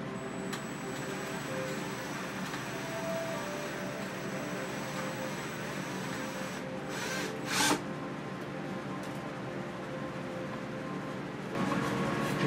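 A power drill slowly countersinks a screw hole in a boat during fresh water plumbing work, giving a steady whirring hum that runs throughout, with a couple of brief sharper bursts near the end.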